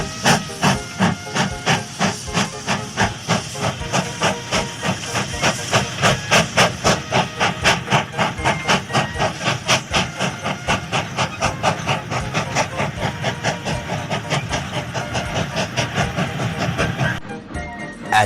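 Steam locomotives pulling a long train of coaches chuff in a steady, regular rhythm of hissing puffs, loud and continuous for the whole stretch, with no voices over it.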